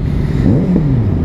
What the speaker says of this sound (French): cette concentration de motos